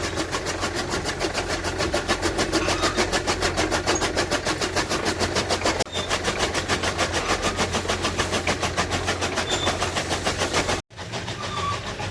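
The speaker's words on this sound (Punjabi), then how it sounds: "ਦੇਖੋ ਜੀ ਮੈਂ ਟਰੈਕਟਰ ਲੈ ਕੇ ਆਈ ਆ ਖੇਤ ਤੱਕ" A tractor's diesel engine chugs loudly in a fast, steady rhythm in a farm field, running close by without pause before briefly cutting out near the end.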